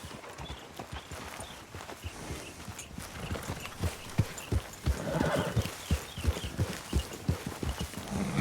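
A horse's hooves clip-clop steadily at a walk in Red Dead Redemption 2, with a whinny breaking in; the hoofbeats grow louder and closer toward the end.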